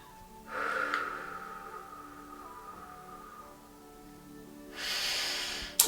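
A slow, steady breath exhaled during a guided meditation breathing exercise, a soft airy rush that starts with a sharp intake, then sustains gently for several seconds before another breath swells near the end.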